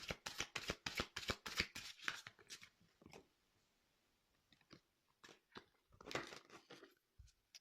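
Tarot cards being shuffled and drawn at close range, a rapid riffling burst, then a quiet pause, then scattered slaps and flicks of cards being laid down.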